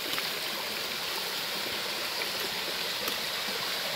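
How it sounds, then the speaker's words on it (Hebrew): A stream tumbling over a small waterfall into a pool at the Ein Rachaniya springs, a steady close rushing and splashing wash of water with no voices. "יש פה מפל ובריכה"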